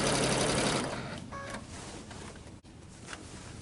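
A sewing machine stitches binding onto the first corner of a quilt, running loud and steady at first, then easing into a softer, lighter hum with a brief pause near the end.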